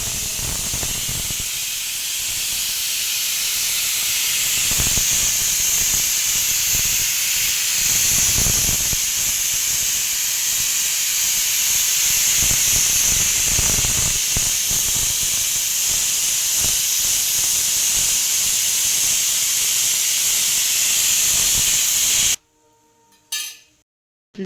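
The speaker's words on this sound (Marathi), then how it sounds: "आता त्याला उकळी फुटून द्यायची" Rice and water in a cooking pot for masala rice pulao, giving off a loud, steady steam hiss that holds for about twenty-two seconds before cutting off abruptly into near silence.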